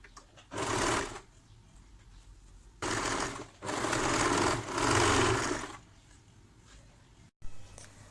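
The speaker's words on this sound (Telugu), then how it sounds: "మన దగ్గర ఎంత వెడల్పు ఉంటే ఆ సైజులో మనం అలా ఫోల్డ్ చేసుకొని అలా ఒక స్టిచ్ వేద్దాం." A sewing machine stitches down the folded hem of a baby skirt. It runs in a few close, loud bursts of steady whirring separated by quiet pauses.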